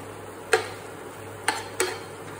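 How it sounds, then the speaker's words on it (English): Dried white chilies being stirred in a pot, three sharp utensil clicks against the pot at uneven intervals over a faint background hum, with no talking. "So I'm just trying to check as I stir if my chili peppers are cooked"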